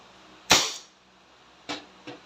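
A Crosman SNR 357 airgun revolver fires one sharp, loud crack, followed by two quieter short pops, in a quiet setting with no talk.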